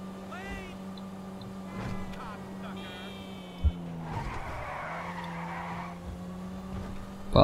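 Car tires squealing and skidding while drifting in the video game GTA V, with an engine drone underneath, a long tire screech in the middle and excited voices talking over it.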